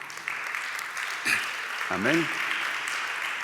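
Steady applause fills a Spanish-language church service, a soft, even wash of clapping with a voice speaking briefly over it.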